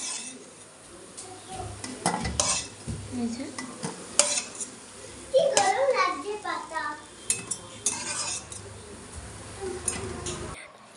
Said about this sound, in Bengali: গাইজ দেখো এগুলো ভাজা হয়ে গেছে, এখন না উঠিয়ে দিচ্ছি এগুলোকে।